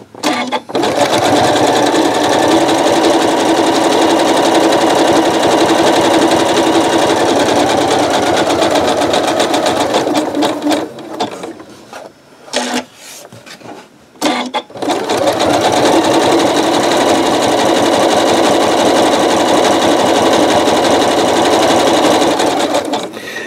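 A sewing machine with a 9.0 stitch width runs loud and close, stitching a rope bowl in a long steady whir. It stops briefly in the middle with a few short bursts, then resumes its continuous run.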